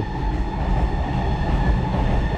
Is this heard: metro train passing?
yes